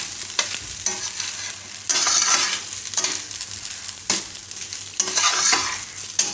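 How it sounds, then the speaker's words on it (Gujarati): Broccoli cheese fried rice being stirred and tossed in a pan, rhythmic scraping sweeps over a low sizzle, repeating every second or so, close and clear, no talk. "તો ગેસ બંધ કરી દઈશું અને મિક્સ કરી દઈશું"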